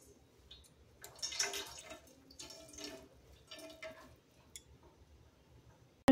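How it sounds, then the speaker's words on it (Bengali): Water draining through a cloth as freshly made chhana for rasgulla is strained, producing soft intermittent trickling and splashing bursts close by, fairly quiet. "তো এবার জল থেকে আমি ছেঁকে নিচ্ছি।"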